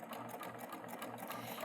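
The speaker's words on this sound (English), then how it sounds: "I'm going to stitch until my needle takes about 1 or 2 stitches in the fabric" A serger sewing machine stitches steadily through fabric, a close, continuous rapid whir with no talking over it.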